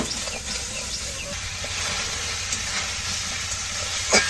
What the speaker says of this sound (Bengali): সব কিছু ভালো করে কষিয়ে নিলাম